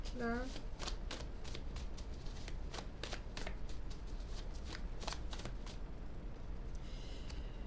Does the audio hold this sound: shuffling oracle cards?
yes